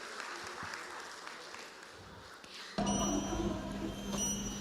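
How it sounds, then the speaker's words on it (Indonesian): An audience at a closing ceremony breaks into applause partway through, a sudden broad burst of clapping that follows a quieter stretch of murmuring room noise and soft voices. "Boleh berikan tepuk tangan yang meriah."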